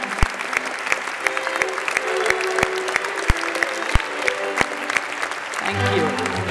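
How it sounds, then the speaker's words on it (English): Audience applause for the research category winners at the European Heritage Awards ceremony, with many hands clapping steadily and individual sharp claps standing out, tapering as a low hum takes over at the end. "a warm applause for all winners in category research"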